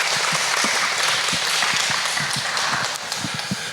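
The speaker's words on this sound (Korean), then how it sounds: "다시 한번 큰 박수를 부탁드리겠습니다" Steady crowd applause, a dense wash of many hands clapping together, continuing throughout with no voices.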